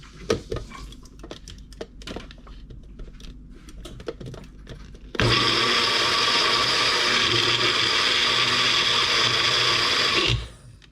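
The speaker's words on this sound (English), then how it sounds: "Just gonna make a paste, grind this up in the blender" Clattering kitchen noises give way to a loud, steady blender whirring for about five seconds as it grinds a paste for a turkey drumstick, then it cuts off abruptly.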